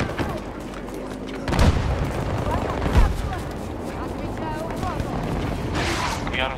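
Gunfire and explosions in the video game Battlefield 2042, bursts of shots and heavy booms over a busy battlefield din, with a player talking over the action.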